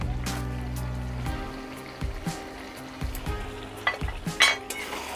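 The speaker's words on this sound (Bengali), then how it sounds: "ভালো করে নেড়ে দেব।" Spiced chicken curry with homemade garam masala and meat masala being stirred as it fries in a pan, a soft sizzle under scraping spoon strokes and a few clinks against the pan, with no talking.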